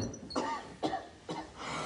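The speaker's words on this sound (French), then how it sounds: "Mais tu t'entends comme tu tousses" Three separate coughs come at a steady pace, close and fairly loud, with brief quiet gaps between them.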